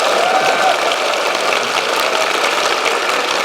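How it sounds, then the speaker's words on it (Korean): At a political talk concert in Daegu, a large audience applauds loudly and continuously, a dense, even roar of clapping hands with no gaps throughout. "박수 한번 부탁드리겠습니다."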